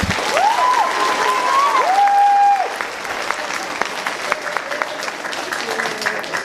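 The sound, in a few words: applause for a teacher at an awards ceremony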